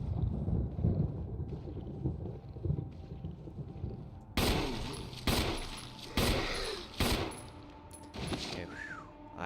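Bursts of gunfire in the Resident Evil HD Remaster survival horror game, loud repeated shots in the second half after a quieter, murky opening, with several sharp blasts spaced a second or so apart.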